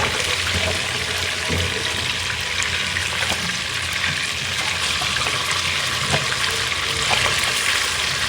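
Fish fries lightly in a pan of oil, giving a continuous watery crackle and hiss that stays level throughout, close and alone with no talking.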